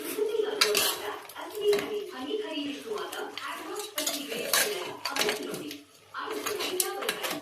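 Garam masala and coriander powder fry in a pot for mutton sambar as a metal utensil clanks and scrapes against the pot in busy, irregular bursts, with voices murmuring in the background.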